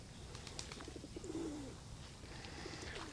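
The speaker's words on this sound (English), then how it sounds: "Are you happy pigeons? Did you just get fed?" Pigeons coo softly beside a pond at Osaka Castle, a few low rolling coos rising over quiet outdoor ambience, with no talking.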